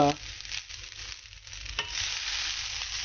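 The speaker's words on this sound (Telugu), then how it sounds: "ఇప్పుడు ఈ బ్రౌన్ రైస్ని దీంట్లో వేసేసుకుందాం." Cooked brown rice tipped into a hot pan of tempering, with a steady close sizzle and frying hiss, a brief scrape of stirring near the start and middle, continuing evenly without speech.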